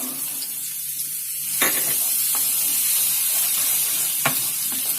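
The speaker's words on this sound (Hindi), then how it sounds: "4 टीस्पून इसमें ऑयल डाल दिया है। अब हम इसमें डालेंगे गार्लिक थोड़ा सा" Minced garlic sizzles in about four teaspoons of hot oil in a pan as a chicken sauce is started, a steady hiss and crackle with a few sharper spits and stirring clicks, close and alone without talk.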